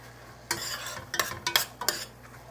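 Garlic frying in a pan with hot sauce, a soft continuous sizzle broken by several quick scraping stirs of a utensil, close up.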